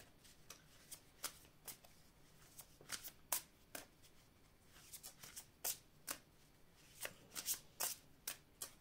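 Tarot cards shuffled and handled close up, a run of quiet, crisp riffles and flicks in irregular bursts, with no talking over them.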